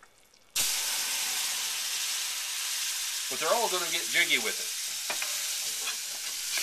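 Turkey juices from the neck and the pan hit a hot brown roux of butter and flour, starting a loud, steady, close sizzle that runs throughout while a voice briefly speaks over it.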